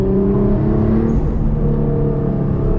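A loud, deep car engine roar in manual mode holding steady with a rumbling, heavy tone, continuous and close throughout with no voices.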